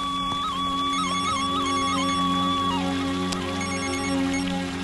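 A mobile phone rings in a room with a steady electronic melody of repeating tones, loud and close, with a constant low hum beneath it and no talking.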